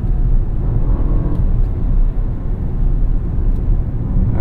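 A 2023 BMW XM drives along mountain roads, its engine giving a loud, steady low rumble close by that runs without a break, with no voices over it.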